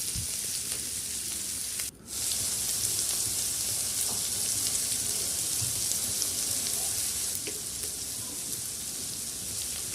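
Chicken curry with salt added sizzles steadily in a pan while being stirred, a broad even hiss with a brief dip and faint scraping movements throughout.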